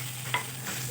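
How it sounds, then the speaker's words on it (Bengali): Crushed ginger-garlic paste fries in a pan over medium-low flame. There is a soft, steady sizzle with a quick stirring scrape, a low hum runs underneath, and no voices. "এটাকে খুব ভালোভাবে আমি ভেজে নেব।"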